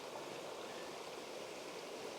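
Steady rushing flow of a creek below a suspension bridge on a forest trail toward Savage Falls, a continuous broadband wash of water heard faintly from a distance.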